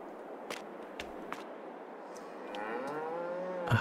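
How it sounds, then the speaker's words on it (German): A cow in the Farming Simulator 22 game moos in one long, drawn-out low call that swells toward the end, with a few faint clicks and light ambient noise before it. "Hallo, Kuh."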